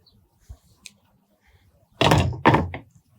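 A hatch closing on an XO EXPLR 44 boat: soft faint clicks first, then two heavy, close thuds in quick succession as the lid drops and seats, each trailing off briefly.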